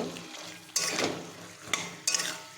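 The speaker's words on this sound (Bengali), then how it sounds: "এবার আমি এগুলো ভালো করে মিক্স করে নেব" Drumsticks and potatoes being stirred into fried spices in a pan, with a soft sizzle under three sharp spatula scrapes and clanks against the metal, close and clear.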